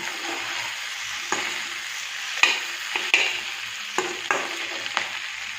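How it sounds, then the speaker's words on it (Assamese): Pork with tomato frying on a medium flame in a pan, with a steady close sizzle broken by several sharp scrapes and clinks as the meat is stirred. "মিডিয়াম ফ্লেমত ভাজিলে হ'ল মাংসখিনি,"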